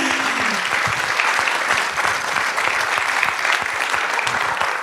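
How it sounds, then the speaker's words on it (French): An audience at a talk or conference session applauds steadily, a thick continuous clapping that stays loud and even from start to finish with no break. "Merci à vous, on peut les applaudir s'il vous plaît."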